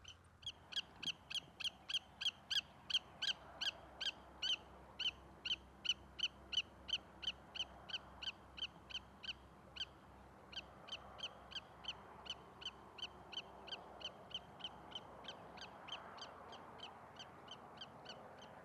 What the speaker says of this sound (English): It's a young willet. It seems oblivious to the fact that I'm right here, and it just keeps calling and calling and calling